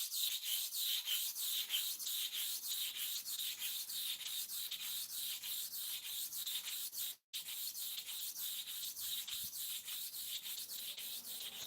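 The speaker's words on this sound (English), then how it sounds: "Sharpening of this upper clipper." A hair clipper blade is sharpened with rapid, rhythmic back-and-forth rasping strokes, a steady close scraping that continues throughout with one brief dropout.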